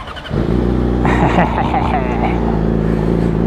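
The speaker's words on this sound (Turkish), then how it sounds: "İşte hiç alışkın olmadığım bir motora bindim şu an." A Yamaha R6 sportbike rumbles loud and close while riding in traffic, its engine droning and revving steadily throughout. A rider's voice briefly cuts in over the engine.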